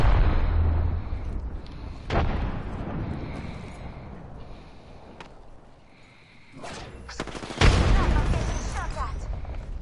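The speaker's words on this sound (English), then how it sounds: "Frag grenade set." A video game firefight with a frag grenade blast makes dense, rumbling bursts of explosions and gunfire. The loud blasts come around two seconds and again near eight seconds, with a quieter lull between them.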